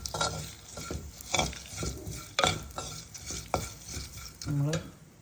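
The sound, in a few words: stirring turmeric powder into curry in a pan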